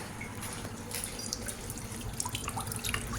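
Water is poured out for farm animals to drink, a continuous splashing flow with scattered drips and sloshes, loud and close, running throughout.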